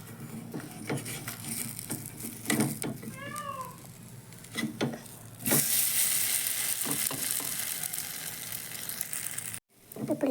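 A drumstick leaf and pearl millet dosa cooks on a hot pan. Light pan noises give way to a loud, steady sizzle that lasts several seconds, and a short meow-like cry is heard early on.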